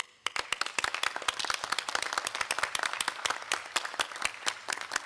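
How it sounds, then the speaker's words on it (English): Audience applause for a group of fellows at a conference pitch event, a dense steady clapping of many hands sustained throughout, close and fairly loud with no talking over it. "So big applause to you."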